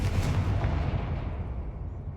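A Confringo spell explosion in Hogwarts Legacy: a loud, deep boom that rumbles and slowly fades out over about two seconds.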